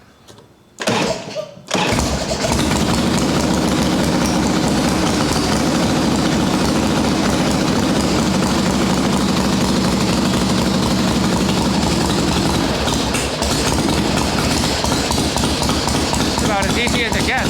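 A 1981 Harley-Davidson XLH Sportster chopper fires up after a brief starter crank and settles into a loud, steady, rumbling idle that runs close and continuous throughout.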